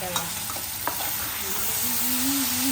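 Dried fish stirred in a frying pan, a loud continuous sizzle with scraping stir strokes near the start and a rising whistle-like tone later, close up and without speech.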